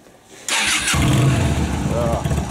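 A motorcycle engine kicks into life after a short starter whir, then settles into a loud, meaty, throbbing idle close by, with a person's voice faintly under the running engine.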